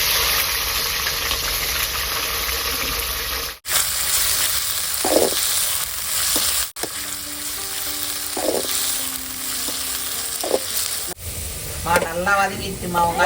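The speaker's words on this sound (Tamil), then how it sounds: "நண்டு வருது நண்டு வருது நண்டு வருது வெங்காயம் போட்டுக்கலாம் கருப்புலையும் போட்டுக்கிறேன்" Crab fries in a pan with onion and curry leaves, a constant close sizzle with occasional stirring, and voices are heard over it toward the end.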